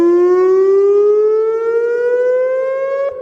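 A WPS 2910 civil defense siren sounds loud and close, a single sustained tone gliding slowly upward in pitch with no other sounds around it.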